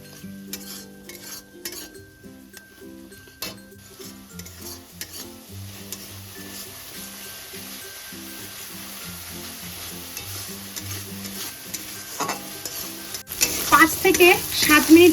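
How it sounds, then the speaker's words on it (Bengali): Ginger garlic chilli paste with ground coriander frying on a low to medium flame, stirred with light spatula clicks over background music, then a louder burst of hissing sizzle near the end. "লো টু মিডিয়াম ফ্লেমে মশলাটাকে কষে নেবো"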